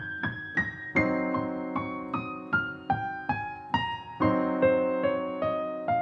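A keyboard plays a run walking down from the five chord in a gospel progression, about a dozen quick, evenly spaced notes with sustained chords ringing beneath, close and clear with no talking.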